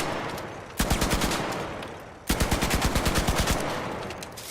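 Two sustained bursts of rapid automatic fire from a gun with an extended magazine in ARC Raiders, each a steady, evenly spaced string of loud close shots, the second burst longer than the first.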